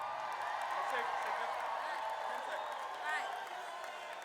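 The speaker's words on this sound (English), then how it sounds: "Give her a big round of applause" A crowd at an education funding rally in Tallahassee claps and cheers for a speaker in a steady, dense wash of noise, with a brief whoop rising near the end as the noise slowly fades.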